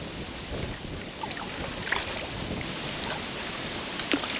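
Steady wind rushes over the microphone while kayaking on a river against the current, a broad continuous hiss with faint water splashes and small knocks, no talking.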